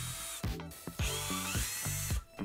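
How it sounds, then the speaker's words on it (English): A power drill bores a hole through the bottom of a plastic lid that will serve as a base, in several short bursts with brief pauses in between, loud and close. "Drill a hole in the bottom for attaching the base."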